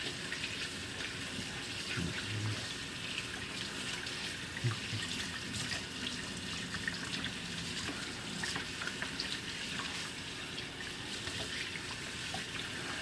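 Water from a kitchen tap runs steadily as hands sticky from a potato latke mixture are rinsed underneath, a constant close splashing rush with small shifts in the flow.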